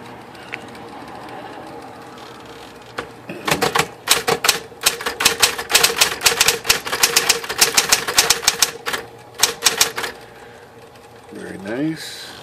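A 1960s Smith Corona Coronet 12 electric typewriter with script typeface types in a fast, close flurry of crisp keystrokes and clacks lasting several seconds, with a short pause, a few last strikes, then a carriage-return whir, following brief talk.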